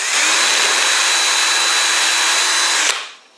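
A power drill bores into plasterboard with an 8 mm bit for a Fisher PD8 fixing, a close, continuous high whine for about three seconds that stops abruptly and fades out.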